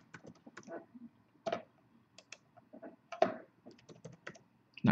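Close computer keyboard typing in quiet surroundings, irregular bursts of clicky keystrokes with short pauses between, ending in a couple of sharper taps.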